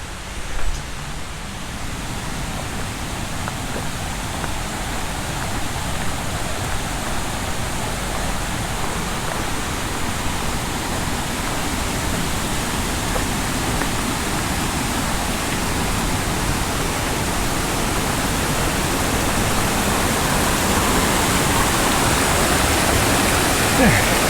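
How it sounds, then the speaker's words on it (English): Rain falls near a waterfall and stream in Lynmouth and Glen Lyn. A broad, constant rushing wash of water goes on throughout, loud and unbroken, growing slightly stronger toward the end. "It's raining."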